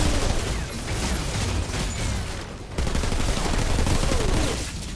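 Sustained SMG fire from the Outriders video game, a dense, loud run of rapid shots that holds for several seconds, breaks briefly, then resumes at full intensity.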